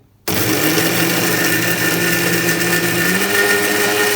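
Kitchen mixer grinder whirs into action after a moment of silence, blending mango lassi with sugar, then running loud and steady with a droning motor whine that rises slightly in pitch near the end.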